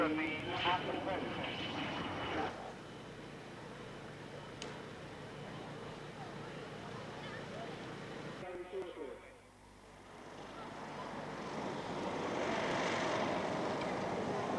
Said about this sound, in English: The Tornado F3 of 56 Squadron RAF Coningsby takes to the skies for the last display of the day.